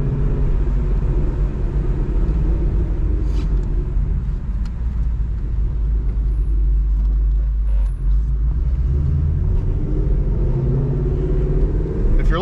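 A Ford Mustang fitted with Kooks headers and a Corsa Xtreme exhaust cruises in normal driving, and its deep exhaust drone rumbles steadily and close throughout, with light shifts in engine speed.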